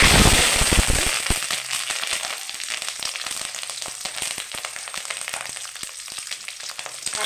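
Mustard powder and curry leaves frying in hot oil for a pumpkin chhechki, a loud, dense crackle and sizzle that starts strong and settles into steady spattering pops throughout, with no talking.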